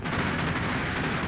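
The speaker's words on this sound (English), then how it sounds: "Watch this explosion." A dense, continuous roar of blast and rumble from long-range rocket guns fired by twin-engine planes during a wartime air battle in a film, loud and broad with no pause and no talk.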